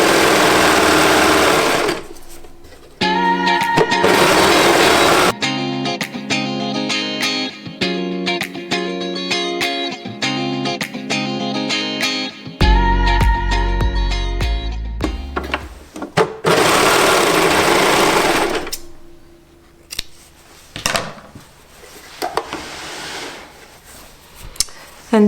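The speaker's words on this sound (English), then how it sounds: "it's only a question of sewing the 3 layers together" A sewing machine stitches three layers of knit fabric together for a cowl, running in loud bursts of rapid whirring broken by short pauses, with a low motor hum underneath.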